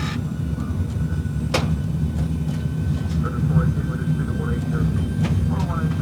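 Boeing 737-800 engines spool up to takeoff thrust: a steady, loud low roar fills the cockpit, with faint tonal whine above, occasional clicks, and crew voices talking over it.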